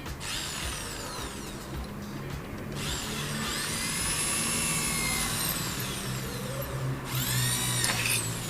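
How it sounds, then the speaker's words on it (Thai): Power drill boring two holes, left and right, into the casing of a homemade deep-water fish stunning device; a steady, loud whine runs throughout with pitch sweeps as the bit bites and eases, no talk. "เจาะรูนะครับสองรู ด้านซ้ายกับด้านขวานะครับ"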